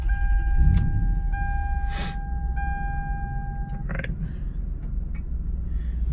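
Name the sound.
Lexus LX470 car engine started and running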